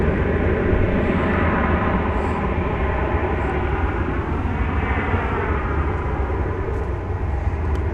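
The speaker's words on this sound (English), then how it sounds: "American Flight 2568 to San Diego is rolling now." An American Airlines Airbus A321 rolling for takeoff at night at DFW Airport, a loud, steady jet engine roar filling the whole stretch with a broad rumbling drone.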